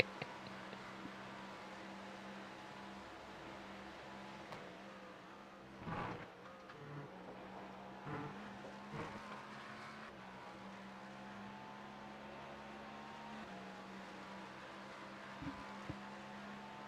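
A Cadillac GTP race car engine runs at the 2025 Daytona 24 Hours, giving a steady, droning tone at moderate distance with a few brief louder swells and no voices.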